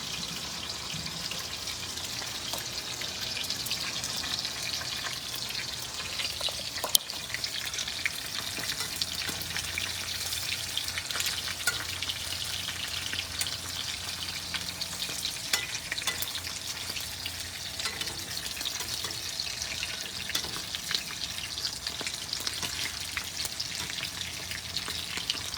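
Dried fish (tuyo) frying in a pan gives a steady, crackling sizzle with scattered pops, close and continuous throughout, without anyone speaking.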